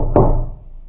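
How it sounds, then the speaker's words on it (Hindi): A single sharp knock on a door, close and loud, followed by a brief fading resonance, used as a sound effect in a Hindi bedtime story. "एक दिन मीना के दरवाजे पर दस्तक हुई"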